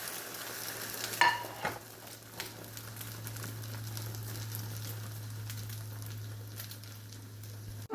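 A Spanish omelette sizzles steadily in a hot pan, close and continuous, with a clatter of utensils near the start and no talking.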